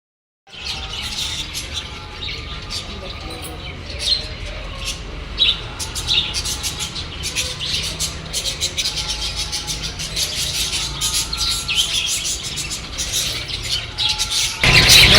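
Lovebirds in an enclosure at a Subrahmanya temple chirp and squawk continuously, a dense flock of high twittering calls that grows busier and louder toward the end.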